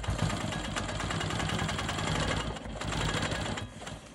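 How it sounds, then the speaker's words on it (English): A sewing machine runs steadily, stitching in the ditch on a star quilt block, a close, even mechanical whir with a brief pause near the end. "I'm gonna stabilize this triangle by stitching in the ditch"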